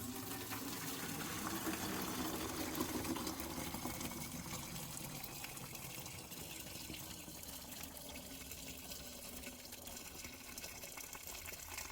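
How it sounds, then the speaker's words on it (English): A steady gush of boiling water pours continuously into a funnel for several seconds, a broad hissing stream that slowly eases slightly in loudness. "I am adding the boiling water"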